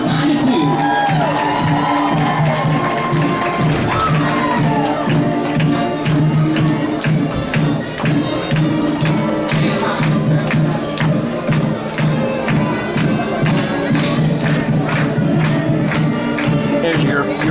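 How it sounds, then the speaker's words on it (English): Loud, continuous crowd roar with cheering and shouts at a high school football game between Stilwell and Gentry, sustained throughout with scattered yells and a busy stadium din. "this crowd is going crazy"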